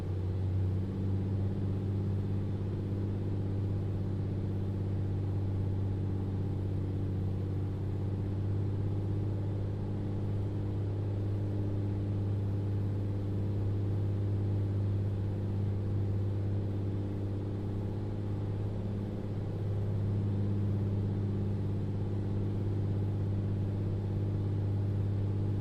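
A Beechcraft Bonanza piston engine in a flight simulator hums at a steady low drone, with a constant deep tone as power is eased back on approach, continuous and loud with no talking.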